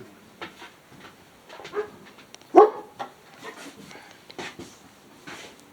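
A dog barks once or twice inside a homestead pavilion during cabinet installation, a short sharp bark among quieter yips and whimpers, with people talking nearby.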